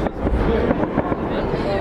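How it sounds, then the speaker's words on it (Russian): Fireworks bursting at a closing-season festival in Japan, a steady dense crackle and rumble of distant shells with repeated pops, set against a crowd's murmur and nearby talk. "На той стороне тоже идет небольшой фейерверк."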